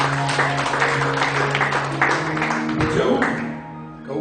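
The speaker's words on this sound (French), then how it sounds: "Applaudissez le Seigneur." Congregation applause during a church service, steady clapping mixed with voices and a sustained musical tone underneath, fading out toward the end.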